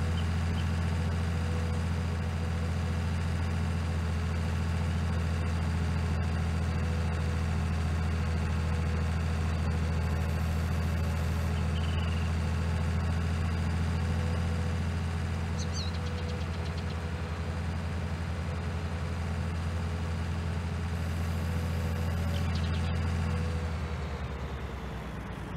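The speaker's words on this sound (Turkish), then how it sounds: "150 beygirlik traktör bence çeker." Idling 150 horsepower tractor engine in the video game Farming Simulator 19, a steady low rumbling drone with constant harmonic hum, loud and continuous throughout, with no talking.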